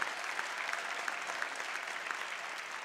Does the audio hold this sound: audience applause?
yes